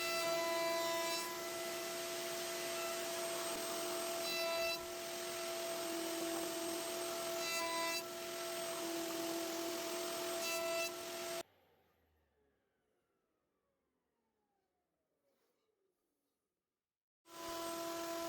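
Steady abrasive whir of an edge profiling tool chamfering the edges of laminate, with a constant motor hum under rough rubbing, running continuously for about eleven seconds, then cutting out to near silence before resuming.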